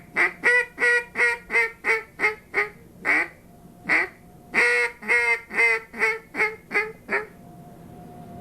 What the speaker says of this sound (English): we also have in the soft calls a timber call, and this also has kind of a soft metal sound